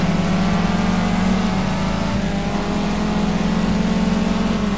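Mini Club Car race in a sim racing game, with a steady, loud engine drone holding a constant pitch throughout, several cars running close together with no pauses.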